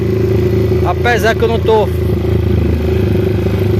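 A prototype Jeskap motorcycle rides along a busy street on its first test run, its engine giving a steady, loud, close drone with a brief stretch of talk over it.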